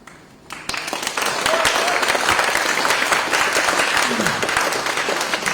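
Applause fills a courtroom during a defense plea hearing, starting abruptly after a brief quiet moment and holding as a steady, dense wash of many hands clapping, with faint voices underneath.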